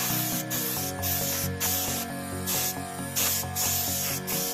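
Spray paint is applied to a model military aircraft in short, even bursts, a loud close hiss repeating roughly every half second with brief gaps, over a steady mechanical hum.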